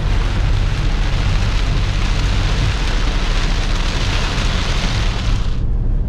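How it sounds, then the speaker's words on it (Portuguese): Steady, loud rain drums on a Toyota Hilux fitted with air suspension, driving a rough Trans-Amazonian road. A dense, even hiss holds throughout with a low rumble underneath that eases after a few seconds, then cuts off near the end. "Se liga na chuva."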